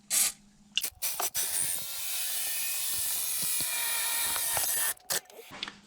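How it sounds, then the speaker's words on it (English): An aerosol can of chain lube sprays in one long hiss lasting a few seconds on a 1996 Volvo 850 Turbo, framed by short bursts of noise before and after. "Spray it a little because it looks like it's getting hot."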